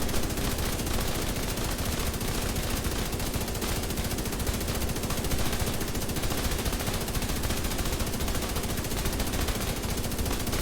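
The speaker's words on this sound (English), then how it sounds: "Now I'm going to take out the Bullet King, effectively a 0-second reload." Bullet King machine gun in The Division 2 firing in one continuous, dense, loud burst of rapid gunfire that never lets up, with no pause for reloading.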